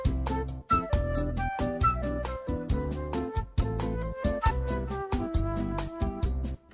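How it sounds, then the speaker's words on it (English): A Yamaha MOX synthesizer in performance mode runs arpeggiator patterns of drums, bass and guitars together, a punchy rhythmic groove with steady beats and repeating notes, played alone at moderate level. "Now I hear a drum arpeggiator, bass, and even guitars."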